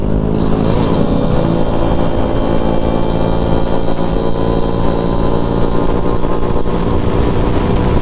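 A Yamaha Alfa motorcycle engine with a hollowed-out stock exhaust runs steadily and loudly up close, a rough, throaty exhaust rumble holding a constant idle-like pitch throughout.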